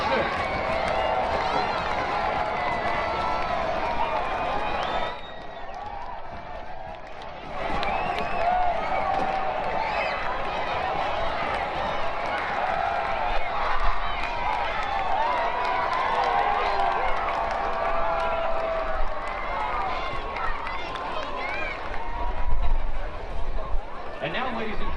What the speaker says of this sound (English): If you make some noise, clap your hands and stomp your feet.